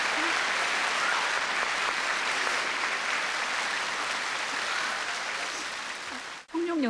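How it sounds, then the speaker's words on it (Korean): Audience applause fills a hall at the Blue Dragon Film Awards ceremony, dense steady clapping that fades near the end as a voice starts to speak. "다시 한번 격려의 박수 부탁드리겠습니다."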